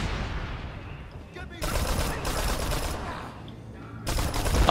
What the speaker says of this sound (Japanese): マシンピストル。